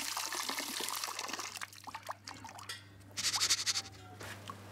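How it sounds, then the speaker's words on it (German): Running tap water rinses pepper seeds in a sieve, a steady pouring splash that drops away midway and then surges back in a brighter burst near the end. "Die guten Samen unter einem Wasserstrahl reinigen."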